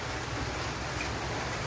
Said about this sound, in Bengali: কত সুরে বাতাস করতেছে দেখেন একবার